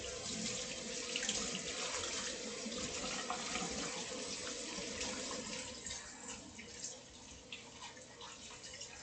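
Water runs steadily from a kitchen faucet into a sink during dishwashing, a continuous faint hiss and splash that eases a little toward the end.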